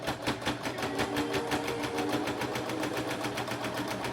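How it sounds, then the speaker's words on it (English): Continuous rapid rhythmic stitching of a sewing machine, steady and fairly close, running alone without voices. "Hopefully the sewing machine will function correctly."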